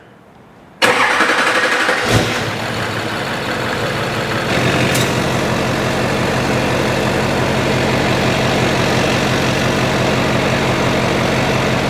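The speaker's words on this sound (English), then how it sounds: "Ignition on. All right, turning it over." A Duramax diesel engine cranks briefly, then fires and settles into a loud, steady, rumbling idle that carries on to the end with no talking.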